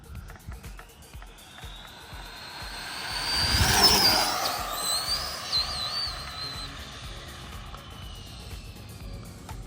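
Traxxas Bandit and Rustler electric RC cars drag race outdoors, their motors whining as they pass and build to a high, whistling peak up close before fading into the distance, with faint background noise throughout.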